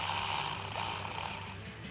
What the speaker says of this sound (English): So now I'm going to take my 7mm on my ratchet,